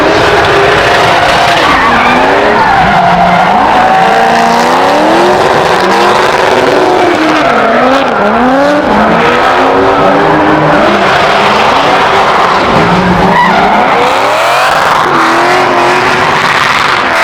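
Chevrolet Corvette C5 drifting at Sick Powerfest 2023, its engine revving hard with wavering pitch over continuous loud tire squeal, close and sustained throughout with no talk.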